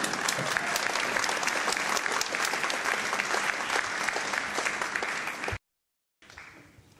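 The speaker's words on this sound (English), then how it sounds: "Yes, let's give her a applause." A concert audience applauds for first chair clarinetist Diane Mahaney with dense, sustained clapping, loud and even for several seconds before it cuts off abruptly; a fainter stretch of clapping returns at the end.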